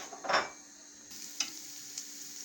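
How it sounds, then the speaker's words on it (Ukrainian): Chopped onion tipped into hot oil gives a short rush of sizzle, settling into a quiet steady fry with a couple of light stirring clicks. "я сюди висипаю нашу цибульку. Цибулька зараз прожариться"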